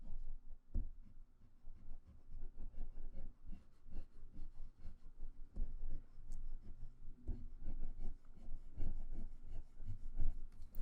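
A pencil scratches and an eraser rubs on paper while a one-point perspective farm scene is drawn, a steady close, soft scraping with small irregular strokes throughout.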